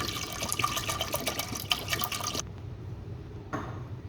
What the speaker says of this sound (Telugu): వాష్ చేసుకున్న తర్వాత కప్పుకి 2 కప్పుల నీళ్లు పోసుకొని